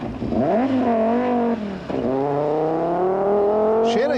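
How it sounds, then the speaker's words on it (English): An Audi rally car bounces through a forest stage, its engine revving hard with rising and falling pitch through gear changes, loud and close, with a brief dip before pulling away again. "Chris Wagner's Audi lacks the sheer grunt of the big turbo Fords, but here it was looking and sounding good as it bounced its way through the forest"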